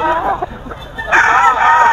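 Roosters crow and chickens cluck among many birds at a busy gamefowl market, with a long crow rising partway through over a bed of crowd chatter and nearby voices.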